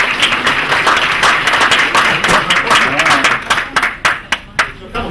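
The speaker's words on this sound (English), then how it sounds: "another round of applause." Audience applause at a rent control update event, a steady patter of many hands clapping that thins out toward the end, with a voice faintly heard over it.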